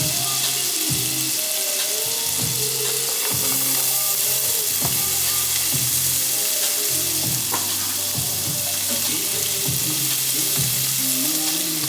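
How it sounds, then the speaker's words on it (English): Garlic and onions fry in a pan, a continuous hissing sizzle with occasional stirring clatter, sitting beneath loud rhythmic amapiano-style music throughout. "I'm gonna add some garlic. Okay. Then I'm gonna add some onions."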